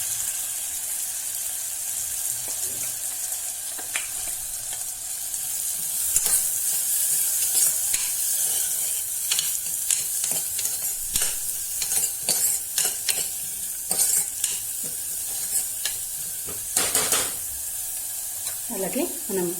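Chopped capsicum and cabbage frying with garlic in a pan for sweet corn soup, a steady loud sizzle with repeated stirring scrapes and clinks throughout, no talking.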